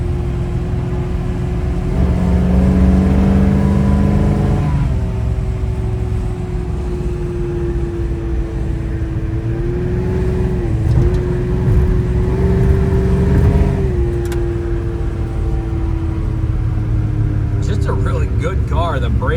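A 1962 Ford Falcon's 302 V8 with aluminum heads hums and revs loudly up close, its pitch rising and shifting as it accelerates, with someone talking over it.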